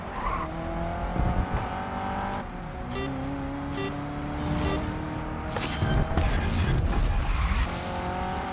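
Race cars in the Grid Legends video game roar through a time attack run, engines droning continuously with tire squeals and skids breaking through, loud and close throughout.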